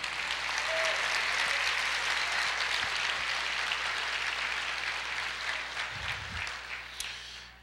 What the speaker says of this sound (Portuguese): Pode aplaudir, querido.